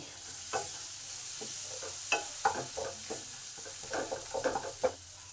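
Spices and tomatoes fry in oil for Bengali begun basanti, a soft steady sizzle broken by repeated scraping stirs of a spoon through the pan, close and fairly quiet, with no talking.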